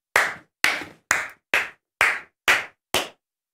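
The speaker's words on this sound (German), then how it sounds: "Warum stehst du auf und klatscht?" One person claps alone, seven sharp close claps at a steady, slightly deliberate pace with silence between each.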